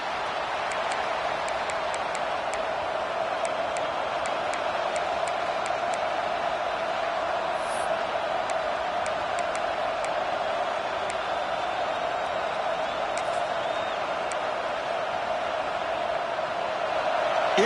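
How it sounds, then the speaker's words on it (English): A stadium crowd at a football playoff game roars in a constant, dense wall of noise, loud and sustained with no break, like distant cheering filling the whole space. "this crowd is fired up. Listen to this noise here."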